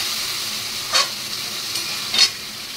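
Onion and green chili paste sizzles steadily in a pan while being sautéed, a close, even frying hiss broken by two short scraping stirs, with no talk.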